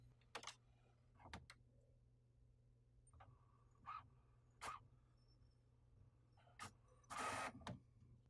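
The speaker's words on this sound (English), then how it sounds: "The printer will now calibrate and print an alignment page." HP Officejet 4650 inkjet printer calibrating and printing an alignment page: faint, intermittent mechanical clicks and short whirring bursts over a low steady hum, with a longer louder feed burst near the end; no talking.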